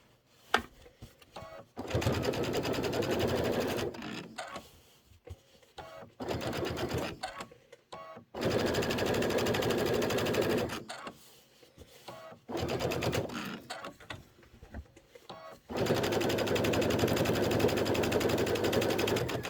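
A sewing machine stitches a pillow seam in repeated bursts of rapid mechanical whirring, separated by short quiet gaps, close and loud with no speech.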